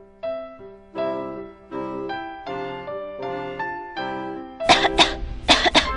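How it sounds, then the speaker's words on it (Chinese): Someone at a meal coughs in a short cluster of loud, harsh bursts near the end, after a stretch of gentle melodic animation music. "咳嗽时转个身会比较有礼貌哦"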